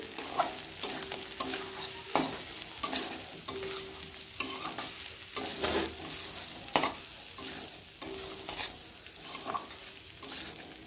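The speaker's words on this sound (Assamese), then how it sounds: "এতিয়া অলপ দেৰি লৰাই ল'ম।" Soya beans and fried potato pieces are stirred in fried spices in a pan: a close, continuous sizzle broken by repeated scraping and clinking strokes of the spatula, with no talking.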